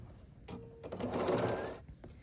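A sewing machine stitches quilt block pieces together in a short, close whirring burst that builds, holds for about a second and then stops, with no voices.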